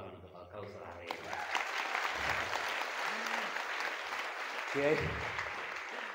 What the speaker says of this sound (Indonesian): Tepuk tangan untuk Al-Kausar hari ini